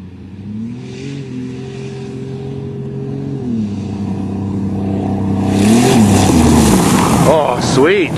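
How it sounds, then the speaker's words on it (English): A turbocharged Volvo 760 and a front-wheel-drive Buick Regal race across a field, their engines droning steadily and then revving hard and climbing loudly as the cars launch and spin, with voices talking over the noise. "And they're off, and the Buick is kicking ass with its front wheel drive."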